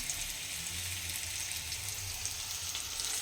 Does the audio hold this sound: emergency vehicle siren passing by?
no